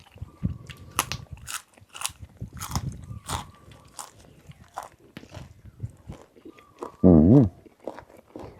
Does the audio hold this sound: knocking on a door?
no